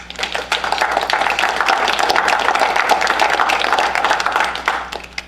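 An evening event audience at a historical society gives a round of applause, many hands clapping steadily and fairly close for several seconds, with individual claps standing out in a dense, even patter.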